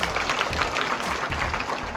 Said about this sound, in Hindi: तो सभी साथियों के लिए एक बार जोरदार ताली बजाएं।